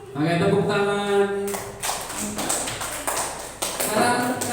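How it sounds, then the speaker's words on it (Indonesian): Schoolchildren in an elementary classroom clap their hands, a busy patter of claps after a voice speaks, continuing under classroom noise. "Oke, tepuk tangan."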